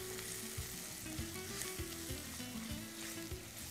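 Spices and vegetables, with chili, turmeric and coriander powders and kohlrabi, sauté in a pan with a steady close sizzle, broken by rhythmic scraping stir strokes throughout.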